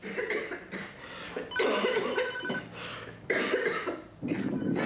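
Repeated raspy coughs in short bursts, close and fairly loud, with a slightly wet, throaty quality, from a person with a viral infection clearing cell debris from the throat.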